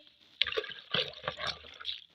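Dissolved rice liquid, mixed with SLES and water, poured from a bowl into a pot while making medicated hair shampoo; a close, splashy trickle with intermittent glugs over about two seconds.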